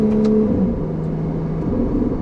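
Ferrari 296 GTB hybrid with 830 horsepower accelerating hard, a loud, sustained engine whir and drone heard from inside the car, steady and close throughout.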